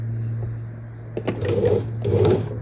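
A sewing machine set to zigzag stitches a seam on hydrangea-project fabric in two short, close, rapid bursts over a low steady motor hum, with no talking.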